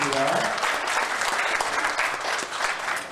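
Applause fills a school year-end reunion as alumni classes are introduced one by one, a steady dense wash of clapping from a large crowd that holds throughout.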